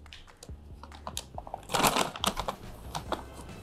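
A bag of coffee beans is torn open up close, giving off quick crinkly rustles and taps that build into a brief louder crackle of packaging midway.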